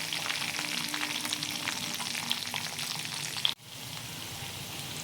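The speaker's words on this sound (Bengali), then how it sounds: "আর পেঁয়াজটা হালকা লাল করে ভাজার জন্য ওয়েট করছি।" Chopped onions sprinkled with a little sugar fry in a pan with a steady, soft crackling sizzle, then a brief stir or clatter cuts in and the frying continues, slightly quieter.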